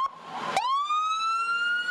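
A wailing emergency siren from ambulances and fire trucks leaving Dayton International Airport after an American Airlines emergency landing, a loud, close rising tone that resets with a sharp burst and sweeps upward again.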